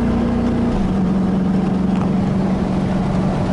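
A 1986 Chevy K-10 pickup's engine drones loud and steady while the truck is shifted into third gear, with a brief dip in pitch as the gear changes and a continuous low rumble afterward.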